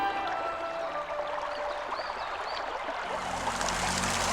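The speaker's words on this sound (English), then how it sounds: "Clear water continuously flows out of the travertine dragon's head." Clear water flowing steadily out of a travertine dragon's head at Yellow Dragon, a continuous trickling, gurgling stream heard close, with no voices.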